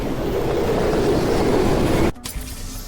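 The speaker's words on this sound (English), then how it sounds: "That falling sound went much longer than the actual fall." In the video game Portal 2, a falling sound plays as a loud, broad whooshing rush that holds steady, then cuts off abruptly, leaving faint low rumbling and soft knocks.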